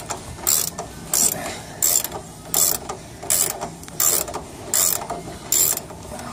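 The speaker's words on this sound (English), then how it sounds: "It's pretty loose where the ratchet's not ratcheting anymore" Ratchet wrench loosening a bolt on the upper control arm of a 1999 Ford Expedition, eight evenly spaced bursts of rapid metallic clicking with short pauses between, close and clear.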